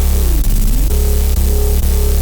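A synth preset called Bluar, run through OTT compression, plays a loud, dense sustained tone with a low bass foundation, shifting pitch across a few short phrases separated by brief breaks, with no talking.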